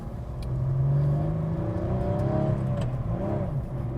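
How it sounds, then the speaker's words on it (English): A 1996 Porsche 993 Carrera's engine revs up steadily while driving, its harmonic tones climbing and falling as the throttle is worked; a loud, continuous drone heard from close by, with no talking. "Oh wow, yeah, this is a very willing engine."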